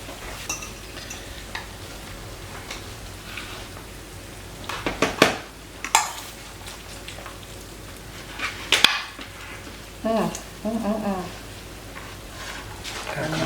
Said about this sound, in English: So we're going to make our plates and see how this is.